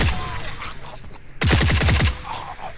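Burst of automatic gunfire from an M60 firing 7.62 ammo in the video game The Forever Winter, a rapid loud string of about eight shots after quieter background game sounds.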